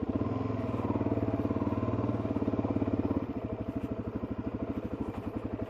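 A motorcycle on a mountain road gives a steady, close engine drone with a pulsing rhythm that drops to a lower, choppier note partway through. No voices are heard.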